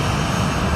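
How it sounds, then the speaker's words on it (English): Air Canada Airbus A330-300 inbound over Fort Lauderdale airport, heard as a steady, distant jet-engine rumble and hiss with no change in level across the short moment. "That inbound aircraft right above FLL is Air Canada Flight 904 from Montreal Trudeau."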